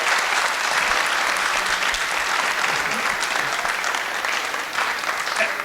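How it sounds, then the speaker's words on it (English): A school audience applauds steadily throughout, a dense, continuous round of clapping from many hands at a seniors' Drive Responsibly 2021 event, close and loud with no pauses. "let's give Ms. Resende a huge round of applause for getting us ready"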